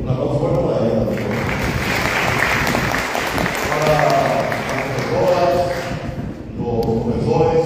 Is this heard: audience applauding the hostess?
yes